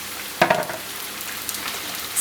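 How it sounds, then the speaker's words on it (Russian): Sliced potatoes tip into a frying pan of softened onion, giving a sudden loud sizzle that settles into a steady, quieter frying hiss. "И вот когда лук уже притомился, утомился под крышкой, высыпаю всю нарезанную картошку"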